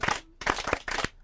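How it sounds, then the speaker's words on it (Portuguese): Short bursts of audience clapping at a school or church reading event, three quick rounds of dense claps with brief gaps between them, fairly close and moderately loud. "Vamos chamar de palmas!"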